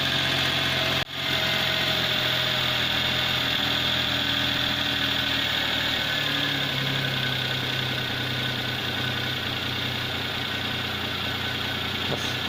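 A Daewoo Matiz engine idles steadily from cold with a low, uneven chugging throb, continuous and close, after a brief sharp dropout near the start.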